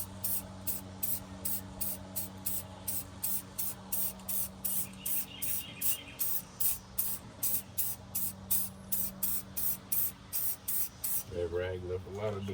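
Spray paint rattle can spraying in long rhythmic bursts of hiss, about two per second, steady and close, with a low hum underneath and a brief voice near the end.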